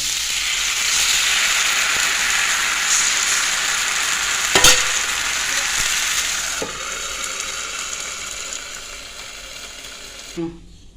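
Appam batter hisses and sizzles steadily in a hot pan. A couple of sharp utensil clinks sound before the sizzle fades toward the end.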